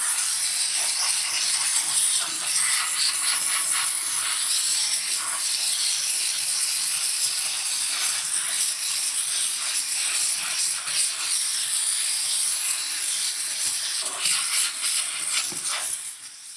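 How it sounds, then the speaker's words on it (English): A steam cleaner blasting hot pressurised steam at bathroom fixtures such as urinals and stalls: a continuous, loud, bright hiss up close, wavering slightly in strength. "you can actually get the steam in there, get it hot enough, and then the pressure to help blow and clean that area out"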